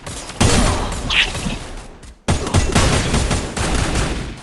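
Rapid gunfire and sniper shots from a Garena Free Fire match crack loudly and densely throughout, with a brief silent gap in the middle before the shooting resumes.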